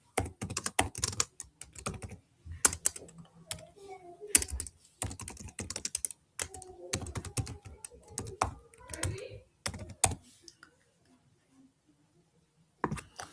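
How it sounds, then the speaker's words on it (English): Someone types on a computer keyboard in quick irregular bursts of sharp key clicks, close and clear, with short pauses between runs and a gap near the end before a final few taps. "Let me just finish typing."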